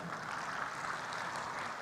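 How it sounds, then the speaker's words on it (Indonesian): A crowd applauds at the opening ceremony of Jogja Fashion Week 2023 at Jogja Expo Center, a steady, fairly distant wash of clapping lasting under two seconds with no voices over it. "Bapak Ibu kita berikan tepuk tangan sekali lagi"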